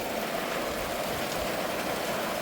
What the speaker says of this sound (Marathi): पाऊस सुरू झाला.